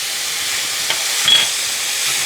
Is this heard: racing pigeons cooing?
no